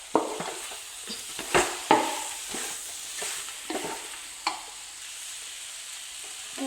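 Chicken gravy is stirred in a pan with irregular scraping strokes of the spoon against the metal, a few louder knocks among them, over a faint, steady sizzle.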